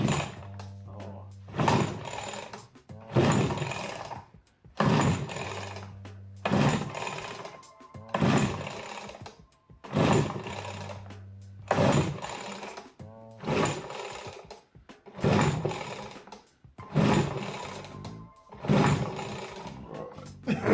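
A motorized tricycle's small engine being coaxed to idle, firing in loud rhythmic bursts roughly every two seconds with sputtering gaps between, close by, no voices.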